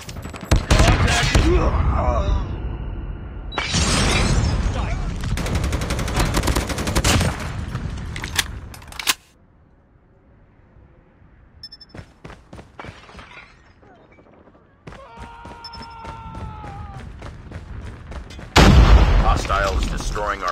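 Bursts of rapid gunfire and sharp impacts in the mobile shooter Call of Duty Mobile, loud and dense in stretches separated by quieter gaps, with scattered single shots and in-game voice callouts.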